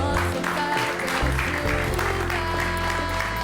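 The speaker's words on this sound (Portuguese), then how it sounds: "Um grande aplauso para ela." Dense applause from a Portuguese TV studio audience fills the whole stretch, steady and loud, with a low rumble of room noise underneath.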